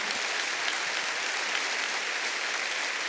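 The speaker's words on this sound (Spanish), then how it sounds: "Den un fuerte aplauso al Señor" A church congregation claps loudly in praise, a dense, even wash of applause filling the room without pause.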